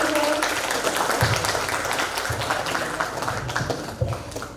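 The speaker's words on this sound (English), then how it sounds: "Give applause for Mr." Audience applause for a lecturer at an international guest lecture, a dense wash of many hands clapping continuously, fairly loud and close, with a voice briefly heard beneath it.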